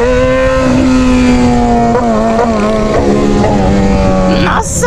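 A Yamaha XJ6 motorcycle with a straight pipe exhaust is ridden, its loud, raspy engine note rising and dipping through gear changes, close up, with a brief lull near the end.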